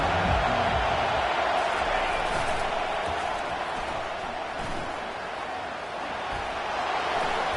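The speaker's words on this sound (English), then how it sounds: "This crowd bringing an ear-splitting welcome to their visitors." Stadium crowd at a Michigan vs Notre Dame football game, a dense continuous roar of cheering filling the space, loud and sustained throughout while a commentator speaks over it.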